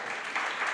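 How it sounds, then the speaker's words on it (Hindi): An audience at a Jain religious discourse in Itarsi claps in applause, a brief, steady wash of many hands at moderate loudness, with no talking. "जितनी अच्छी ताली बजाओगे उतनी अच्छी व्यवस्था करेंगे ये लोग"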